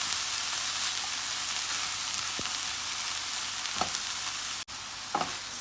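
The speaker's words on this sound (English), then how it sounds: "mix in the onions" Onions fry in a pot with smoked herring on a lowered stove, a steady close sizzle throughout with a few soft scrapes and clinks of a spoon stirring.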